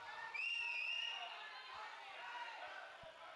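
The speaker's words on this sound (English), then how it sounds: "Can hear the Colombo Aces on court 2." Colombo Aces supporters cheer their team at a padel tournament in Sri Lanka, a faint crowd of shouts and whoops drifting from a nearby court, with one higher shrill cry rising early.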